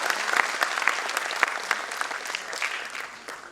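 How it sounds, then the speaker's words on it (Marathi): Audience applause honoring Satyajit Chaudhari at a public event, a dense steady patter of many hands clapping that carries on for the whole stretch with no voices on top. "सर्वांनी टाळ्या वाजवून परत एकदा त्यांचं अभिनंदन करायला पाहिजे."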